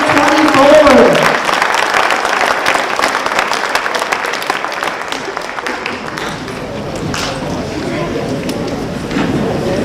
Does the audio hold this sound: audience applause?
yes